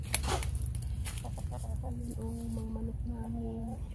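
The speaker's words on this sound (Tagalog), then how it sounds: "Tingnan mo yung mga manok namin." Backyard chickens resting in the shade cluck in short, repeated tonal calls over a constant background hiss, fairly close by.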